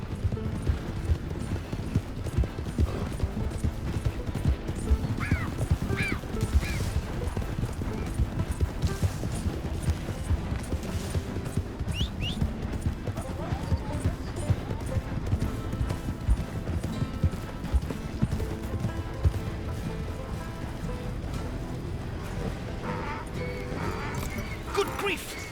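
Donkey hooves clip-clopping at a steady walking rhythm in Red Dead Redemption 2, moderately close, running under game music and ambient sound with occasional talk.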